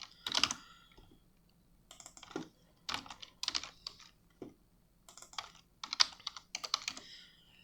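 Quick bursts of computer keyboard typing, with clusters of crisp key taps separated by short pauses, as code is copied and pasted; close and quiet, no talking.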